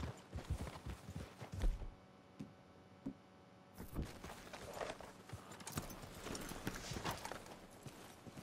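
Horse hooves clip-clop at a walking pace in a video game, close by, with irregular steps and a brief pause midway before the plodding resumes.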